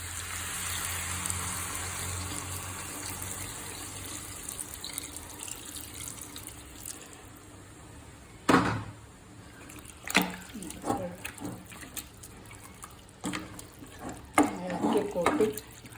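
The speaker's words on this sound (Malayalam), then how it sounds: "നമ്മൾ കുറച്ച് ചൂടുവെള്ളം ഒഴിക്കണം കേട്ടോ" Hot water poured into a pot of carrot chicken curry, a steady watery pour for the first several seconds, followed by scattered clinks and clatter of cooking.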